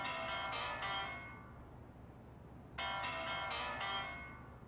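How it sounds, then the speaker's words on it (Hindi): Mobile phone ringtone ringing indoors during a lecture, two bursts of rapid repeated electronic tones, the first about a second long, then a pause, then a second longer burst, moderately loud over quiet room tone. "ये किसका फोन बज रहा है?"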